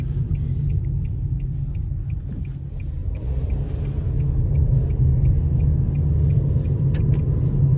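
Cabin engine rumble from a 2024 Nissan Versa S with a 1.6-liter four-cylinder under moderate throttle, a low steady drone that swells slightly as it pulls, with faint road noise.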